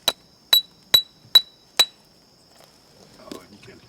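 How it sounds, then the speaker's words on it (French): A hammer strikes a calcite rock sample inside a cave, giving five sharp, ringing metallic knocks about half a second apart, followed by faint rustling and handling noise. "On met un coup de marteau pour voir"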